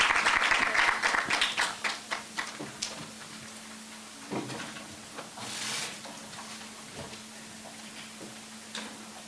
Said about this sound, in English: So can you please give them a round of applause,